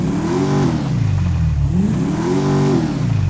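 A Declasse Mariachi Tornado classic car in GTA5 revving hard twice, the engine pitch climbing and falling in two loud, close surges with no talk.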